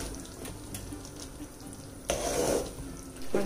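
Tomato pickle sizzles and splatters in a pan for an Andhra-style preparation, a soft crackling fry under intermittent stirring scrapes, rising to a louder burst of spitting midway and again at the end.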